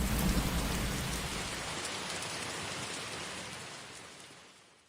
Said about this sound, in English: This rain seems like it will never stop.